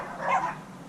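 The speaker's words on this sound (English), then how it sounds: "Excuse all the barking dogs in the neighborhood." A neighborhood dog barks once, somewhat distant, during an outdoor kayak rudder install; a single drawn-out bark stands alone over quiet background hiss.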